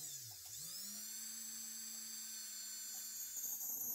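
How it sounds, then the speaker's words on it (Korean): A small rotary drill bores a centre hole into a piece of jewellery carving wax for a prong setting, its high whine spinning up quickly and holding a steady, close pitch throughout. "드릴을 이용해서 가운데 구멍을 뚫습니다."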